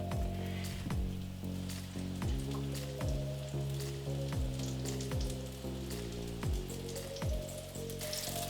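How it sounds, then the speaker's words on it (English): Black bean burgers fry in olive oil in a pan over medium-high heat, giving a steady, close sizzle with fine crackling that carries on throughout with no talking. "we'll cook for about 3 minutes each side, or until we have like a nice crust on them"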